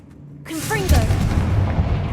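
Fire spell detonating in Hogwarts Legacy, a single booming blast that swells in and rumbles on, heard alone at close range.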